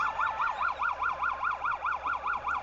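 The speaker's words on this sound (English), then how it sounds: "So Shanks, you hear the police sirens going there in the distance" A police car siren wails in a steady rising-and-falling cycle, repeating about ten times in under three seconds, fairly faint and distant at a high school football game, with no voices over it.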